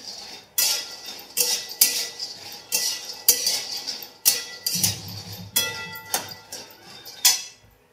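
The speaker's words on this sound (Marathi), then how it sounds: "आता शेंगदाणे भाजायला घेते" Peanuts roasting in a pan for sabudana, stirred in repeated sharp metallic scrapes and clinks at a roughly regular rhythm, loud and close with no voices.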